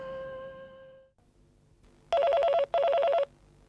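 An old-style telephone bell rings in two loud bursts, each about a second long, with a short gap between them. They follow a fading musical tone and a brief quiet spell.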